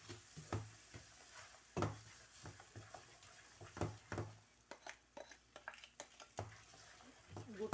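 A spoon stirs milk powder, egg and semolina halwa in a pan, giving a series of irregular scraping and clinking strokes over a faint sizzle, close and fairly quiet, with no talk.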